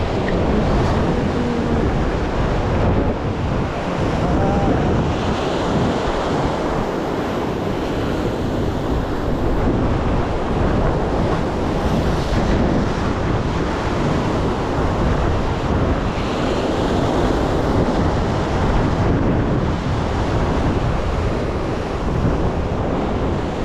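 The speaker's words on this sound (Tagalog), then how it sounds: "Grabe lakas ng alon." Strong ocean waves roar steadily against the shore at low tide in Casiguran, Aurora, a loud continuous wash of surf mixed with heavy wind buffeting the microphone throughout.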